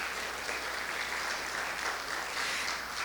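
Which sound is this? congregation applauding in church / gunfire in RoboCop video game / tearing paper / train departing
congregation applauding in church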